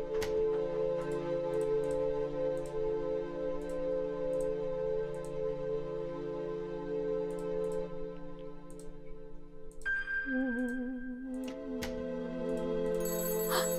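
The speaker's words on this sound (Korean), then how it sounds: "전화기가 울린다." A telephone rings in a horror video game, a repeating electronic ringtone that holds steady over a low droning background and then shifts to a wavering tone near the end.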